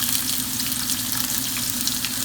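Chopped onions hit hot oil in a pan over high heat, giving a loud, steady, close-up sizzle and crackle that runs unbroken the whole time with no voices.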